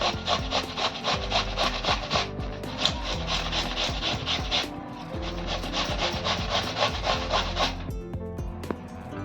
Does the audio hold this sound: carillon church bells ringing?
no